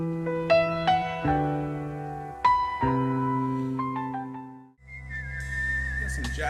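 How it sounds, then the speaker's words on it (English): Melodic whistling rides over a jazzy instrumental passage, with sustained chords, shifting into a brighter, busier passage near the end. "Got some jazzy whistles now."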